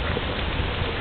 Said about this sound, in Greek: Πολύ βρέχει ρε πούστη μου.